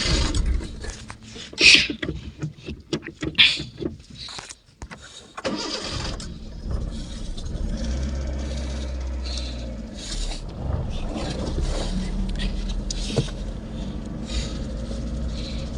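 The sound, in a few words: motorbike riding home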